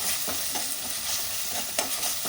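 Onions sizzle quietly in hot oil for chicken curry, a steady frying hiss with a few light stirring scrapes.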